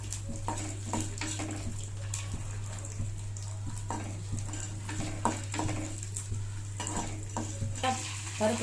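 Urad dal and chana dal frying in oil in a pan, a steady close sizzle under repeated scraping stirs, with no talking.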